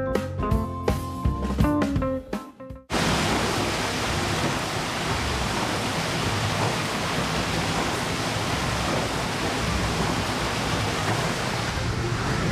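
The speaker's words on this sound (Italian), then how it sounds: "Questo è il rumore di una coclea in funzione" An Archimedes screw turns at an irrigation station, giving a steady, dense rushing and churning like heavy falling water that runs unbroken after a few seconds of music at the start.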